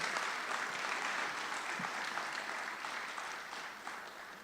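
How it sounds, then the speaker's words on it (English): A crowd at an induction ceremony claps steadily for several seconds, a dense wash of applause at moderate distance that slowly tapers toward the end. "So, round of applause for them."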